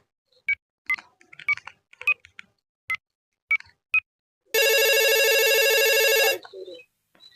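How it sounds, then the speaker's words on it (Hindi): A mobile phone rings during a call from a delivery boy, with a run of separate short beeping tones first and then a loud, steady electronic ringtone lasting about two seconds before it stops. "ये तो डिलीवरी बॉय फोन आवत बा, ला उठाई"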